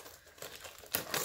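Pokemon card pack packaging crinkles and crumples as it is cut open with scissors, soft rustling at first, then a louder, close burst of crackling plastic near the end, with no talking.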